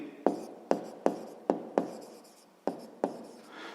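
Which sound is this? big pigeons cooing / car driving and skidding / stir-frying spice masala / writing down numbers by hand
writing down numbers by hand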